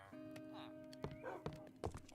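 A hurt dog whimpers and yips in Minecraft, a few short cries with soft thunks over a steady game background hum, and a person speaks quietly underneath.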